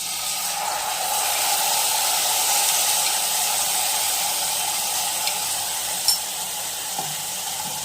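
A mixture of wood apple and water goes into a hot pan on a gas stove and sets off a steady, even hiss and sizzle, with a faint clink near the end.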